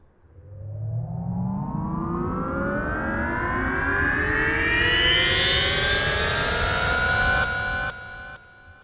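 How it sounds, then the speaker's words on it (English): A rising synth riser in a remix, leading into the second chorus: a loud, sustained tone that climbs steadily in pitch for about seven seconds and then cuts off abruptly. "here another riser leading into the second chorus"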